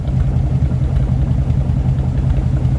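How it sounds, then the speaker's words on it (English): Low, burbling exhaust note of a 1950 Ford Tudor flathead with Smitty mufflers, a close, steady rumble with a faint popping pulse throughout. "I love the sound of the Smitty mufflers with a flathead. It's got a nice pop to it,"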